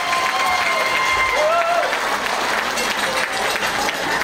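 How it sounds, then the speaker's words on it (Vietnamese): A church congregation applauds their departing parish priest at a farewell gathering, a steady wash of clapping under a murmuring crowd, with faint tones and a voice sliding through near the start. "một tràng pháo tay để chúng ta cảm ơn cha."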